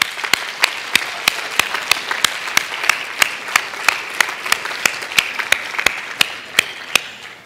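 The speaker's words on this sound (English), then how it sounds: "This is the time where you deserve a round of applause." A church congregation applauds fathers on Father's Day with dense, sustained clapping that stays even and fairly loud for over seven seconds, with sharp individual claps standing out at a steady pace.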